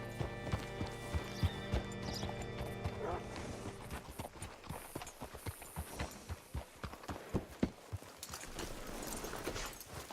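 Horse hooves clip-clop in a steady walking rhythm in Red Dead Redemption 2, growing clearer and closer over a low musical backdrop, with a brief whinny-like sound early on.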